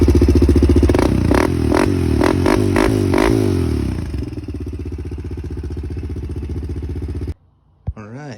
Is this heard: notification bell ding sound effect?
no